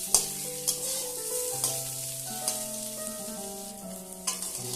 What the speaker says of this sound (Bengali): এগুলোকেও আমি কয়েক সেকেন্ডের জন্য নেড়েচেড়ে ভেজে নেব।